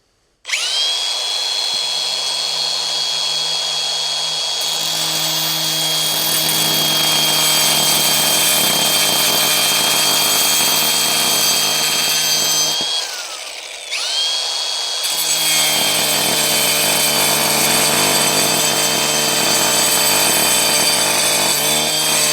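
A diamond grinder blade cuts through glossy tiles with a loud, continuous high-pitched whine and grinding roar. The cut pauses briefly midway and then resumes, with no talking.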